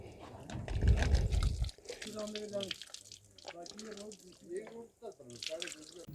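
Clean water splashes as Bhimal shampoo is rinsed out of hair in Uttarakhand. A loud, close rush of water comes first, then someone talks over faint, intermittent trickling.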